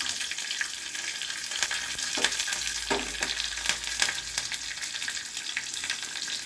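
Curry leaves sizzle and crackle in hot oil in a pan of spinach mutton curry, a steady loud frying hiss broken by a few scraping stirs of a spoon.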